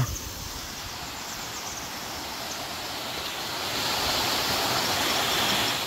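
Water below Soormane Waterfalls near Kalasa, Kudremukh, rushes and flows steadily in a broad, continuous hiss, growing slightly louder toward the end, with no voices.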